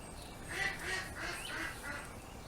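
A duck quacks several times in a row, moderately loud and fairly close, with a faint honking quality.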